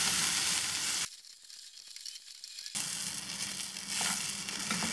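Steamed ragi semiya added to a pan of peas and stirred in: a soft, close sizzle and scraping rustle, then a quiet gap, then the sizzling returns. No one talks.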